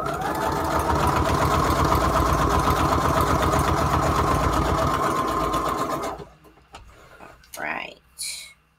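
A sewing machine stitches a layered junk journal embellishment, running loud and steady with a fast mechanical rhythm for about six seconds before stopping, followed by a few faint handling rustles.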